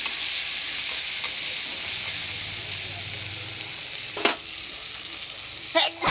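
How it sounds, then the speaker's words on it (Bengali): Ground ginger and cumin spice paste fries for a Bengali fish curry with a steady, soft sizzle that runs throughout, broken near the end by a few sharp clinks of stirring. "এই মশলাটাকে এরকম ভালো করে ভেজে"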